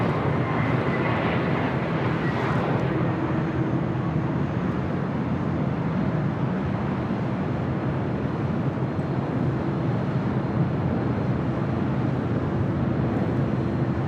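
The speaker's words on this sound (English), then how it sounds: "Followed by KLM Flight 603 coming in from Amsterdam and a 787-9 Dreamliner." A KLM Boeing 787-9 Dreamliner arriving from Amsterdam at LAX makes a steady, loud broadband jet roar that holds evenly throughout, with no talk.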